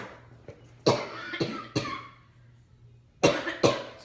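Several sharp coughs, a pair, a single, then another pair, close by with a faint steady hum beneath and no talking.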